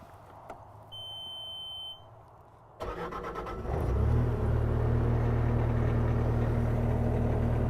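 A 2015 Bobcat T630 compact track loader cranks over and its engine catches, settling into a loud, steady diesel idle after a short electronic beep and a brief starter whir.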